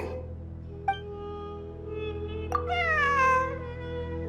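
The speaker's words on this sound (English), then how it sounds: "A cat? I think there was one earlier, too. I'm not hearing things. It really is a cat." Cat in the Genshin Impact video game gives a short meow, then a longer, rising and falling one, both fairly clear over a quiet, steady hum.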